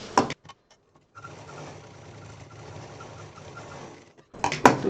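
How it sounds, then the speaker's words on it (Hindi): A sewing machine stitches half of a small cloth pouch, its steady mechanical whir running for about three seconds between brief handling knocks and clatter at the start and end. "अब ये हाफ को इधर सिल देंगे।"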